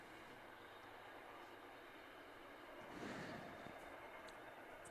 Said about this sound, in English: they're just waiting for the train to pass by so they can hear their calls